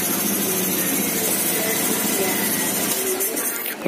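A Honda Beat scooter engine idling with its TPS sensor unplugged, a steady loud close-up drone with a low rumble that shifts slightly near the end.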